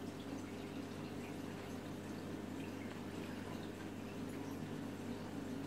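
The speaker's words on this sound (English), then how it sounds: "Can't stand them bloody bubbles." Constant soft fizzing and trickling of bubbles in a 275 litre reef aquarium, a steady low wash over a faint hum, alone and unchanging throughout.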